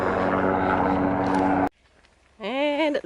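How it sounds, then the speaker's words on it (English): Propeller aircraft noise rumbles loudly on a mountain trail for over a second, cuts off abruptly, then a brief rising harmonic engine drone returns near the end. "There's a lot of aircraft in this area, and also a few helicopters, which is what that noise is."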